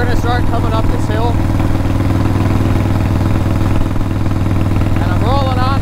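A Harley-Davidson motorcycle with drag pipes climbing a hill in third gear at about 35 to 40 mph, a loud steady low engine rumble throughout with a voice talking over it.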